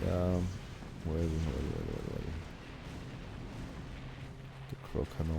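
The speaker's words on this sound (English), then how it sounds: "The crow cannons keep firing like crazy." Deep booming cannon fire in Command & Conquer (OpenRA), several heavy blasts over a rumbling battle backdrop with flak, with a voice talking over part of it.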